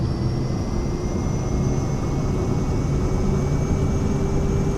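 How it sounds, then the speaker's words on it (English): Simulated Cirrus Vision Jet engines at takeoff power in MSFS 2024, a steady, loud jet roar with a constant high whine, continuous throughout without pause. "Power up. Full power. Takeoff power set."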